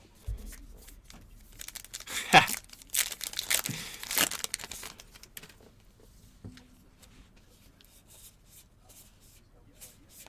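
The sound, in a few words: shuffling through Topps Allen & Ginter baseball cards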